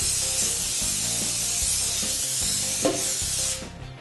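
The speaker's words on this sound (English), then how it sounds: "we're just going to give it a light spray." A steady hiss of cooking spray from a can onto a cake tin runs almost unbroken for a few seconds over a soft music bed, then cuts off.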